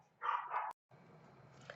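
Dogs bark twice in quick succession, fairly near and indoors, followed by a sharp cutoff and a low, quiet background.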